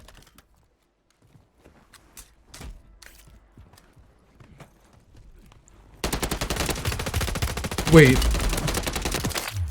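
Rapid automatic gunfire in Call of Duty Warzone erupts after a quiet stretch, a loud sustained burst with a few sharper cracks layered in, as a voice briefly speaks.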